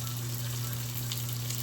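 Half a stick of butter and a splash of milk sizzle steadily in a pan with a veggie blend, a constant close frying hiss with a low steady hum beneath.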